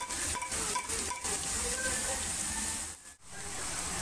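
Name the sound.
beef innards frying in a pan with ginger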